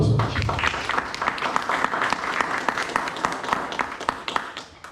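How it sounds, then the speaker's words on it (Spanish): A church congregation applauds after a sermon on the Abrahamic covenant, a dense, loud burst of many hands clapping that holds steady for several seconds, with faint voices mixed in. "Denle un aplauso."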